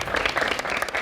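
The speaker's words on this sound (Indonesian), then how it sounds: "Tepuk tangan untuk semua tim." Brief burst of audience applause for competing school teams at a junior high quiz contest, dense and fairly loud clapping from a crowd.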